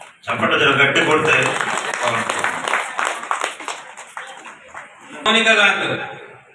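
Applause from an audience at a Ratha Saptami celebration at the Vasavi temple in Devarakonda, a dense burst of clapping that dips partway through and surges again near the end, mixed with voices.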